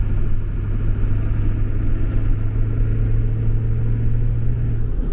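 A 7.3 Powerstroke diesel in an older Ford pickup fitted with a KC300X turbo and 160/30 injectors revs on throttle, a loud, close, deep rumbling drone held steady throughout.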